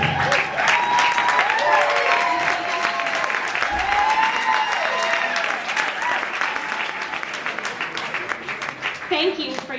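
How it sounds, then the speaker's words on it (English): Sustained applause from a community gala audience at a coastal conservation fundraiser, dense steady clapping filling the whole stretch at an even loudness, with some voices mixed into the crowd. "thank you for your applause."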